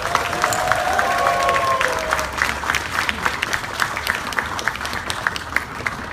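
An audience at a Tibetan National Uprising Day event in San Francisco applauds, with steady clapping from a crowd and a tonal whine over the first two seconds, after which the claps turn sharper and more distinct.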